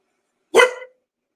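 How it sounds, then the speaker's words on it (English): A single sharp dog bark, close and loud, over an otherwise silent background. "I don't know what y'all are barking at, but they are long gone."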